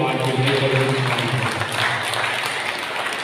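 A church congregation at Sunday Mass claps in appreciation, giving a moderate wash of applause that gradually thins out, with a low steady hum and faint voices underneath.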